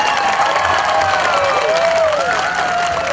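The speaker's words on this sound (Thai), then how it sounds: "ขอความกรุณาท่านได้ปรบมือดัง ๆ ให้กับนางสาวยิ่งรัก์ชินวัตรสักครั้งครับ" Applause and cheering from a crowd at an election campaign rally for the Pheu Thai party, a steady dense wash of clapping that carries on for the whole stretch.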